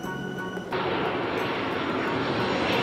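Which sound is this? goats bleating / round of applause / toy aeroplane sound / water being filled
toy aeroplane sound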